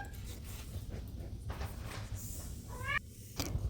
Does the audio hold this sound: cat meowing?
yes